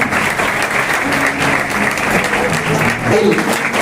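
Dense audience applause at a school farewell function greets a guest, with steady crowd clapping throughout and a low murmur of voices beneath it.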